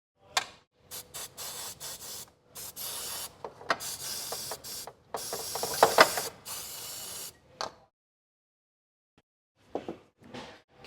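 Penetrating oil is sprayed in short hissing bursts onto the exhaust manifold bolts of a Nissan X-Trail with a QR25 engine, close up, with a louder, longer spray near the middle and a few faint clicks afterward.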